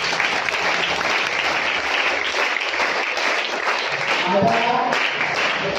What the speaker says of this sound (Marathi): त्यांच्यासाठी जेवढ्या जोरात टाळ्या वाजवता येईल तेवढं वाजवा.